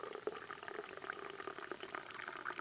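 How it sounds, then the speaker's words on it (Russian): Boiling water being poured into a thermos during a May fishing trip, a soft, close trickle with gurgling bubbles running steadily, quiet and without talk. "Забодяжу кипяточку."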